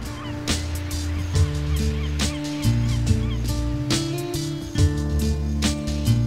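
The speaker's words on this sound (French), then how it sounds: "d'où part un dernier envol de mouettes" Seagulls cry shrilly as a flock takes off in a final flight inland, loud overlapping calls repeating in quick bursts close by, with a constant rough background roar.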